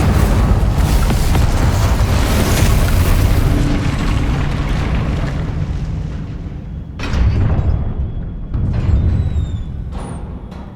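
Incendio fire spell in the video game Hogwarts Legacy: a loud, roaring low rumble with booming bursts that fades midway, then flares again in two separate blasts near the end.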